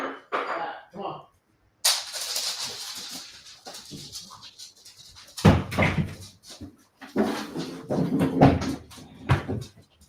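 Indoors in an office, dogs get loose and a door opens and bangs; scuffling, thumps and short dog noises come and go at close range, mixed with a person talking.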